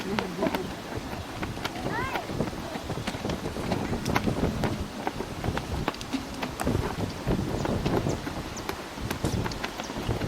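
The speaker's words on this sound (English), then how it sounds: "And the wind is blowing like it always does." Wind blows across an open cemetery near Lawrenceville, Indiana, a steady rough rumble with microphone buffeting throughout, broken by scattered clicks and faint knocks, with a person's voice briefly audible in the background.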